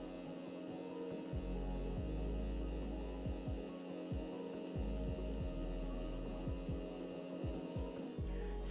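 A tattoo machine fitted with a 7 curved mag needle runs steadily, a constant electric buzz and hum with faint rhythmic pulsing underneath, alone with no talk.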